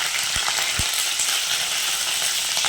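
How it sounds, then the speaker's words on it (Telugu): Onions frying in a pan with mustard seeds, cumin, dried chili, garlic and curry leaves, a loud close continuous sizzle with a couple of brief clicks of a spoon stirring. "ఎర్రగడ్డ బాగా ఎర్రగా వేయించుకోవాలండి"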